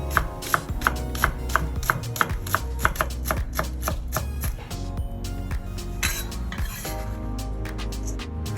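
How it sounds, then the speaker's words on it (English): A knife chops chive stems on a cutting board in quick, steady, closely spaced strikes that later become more irregular, with music playing underneath. "I cut the stem separately first, just to make sure the size of the stem is not too big."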